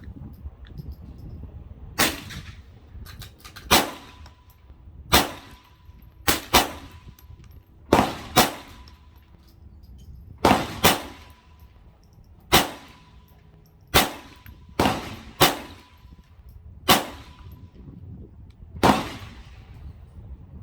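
Gunshots from a GSG 1911 .22 pistol at a shooting range, a string of about a dozen sharp, close cracks at a steady, unhurried pace with quiet gaps between them and no talking.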